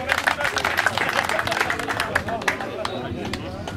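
At the PRENGO CUP 2013 award ceremony, an audience claps loudly and continuously, with sharp individual claps standing out from the crowd's roar, and a voice audible beneath it.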